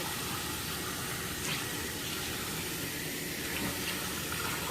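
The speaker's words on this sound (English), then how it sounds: "And I use cold water to rinse mine out." Cold tap water runs steadily into a kitchen sink, rinsing cut bell peppers, a continuous soft splashing wash that holds at an even level throughout with no voices.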